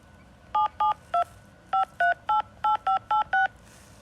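Ten telephone keypad tones enter a phone number on an automated fraud-reporting hotline, each a short, clean dual-tone beep in a steady run with brief pauses, loud and close with no talk over them.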